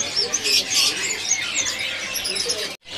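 Small songbirds chirp at a bird market, a dense, continuous twittering of many high, quick calls that ends abruptly.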